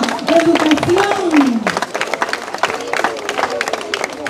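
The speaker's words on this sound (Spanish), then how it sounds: "¡Fuerte el aplauso!" A crowd claps at an outdoor torch handover ceremony in El Salvador while a loud amplified voice shouts over them, and scattered hand claps keep going beneath the speech.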